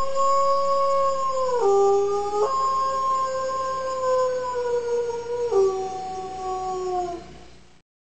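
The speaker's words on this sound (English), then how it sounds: "suddenly he heard a pack of jackals howling at a distance" A pack of jackals howls in the distance, several long wavering voices overlapping in sustained, sliding howls that rise and fall for about eight seconds before cutting off.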